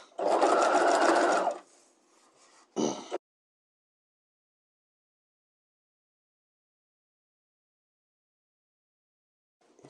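A sewing machine stitches bodice darts in one steady, fairly loud run of about a second and a half, then a brief second burst, followed by near silence.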